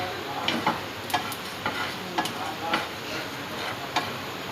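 Whole coriander and cumin seeds dry roasting in a pan, a soft hissing bed broken by regular light scraping stirs and ticks roughly every half second, close and moderately loud.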